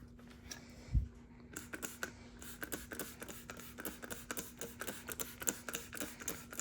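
A spray bottle of wrinkle release spray spritzed onto a dress over and over in quick bursts, close by, each pump a short crisp hiss, with no talking.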